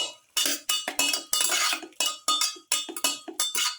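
A spoon clinks and scrapes against a metal pot while salt is stirred into a squid stew with pepper and garlic. The clatter comes in short, irregular bursts, close and fairly loud, with no talking.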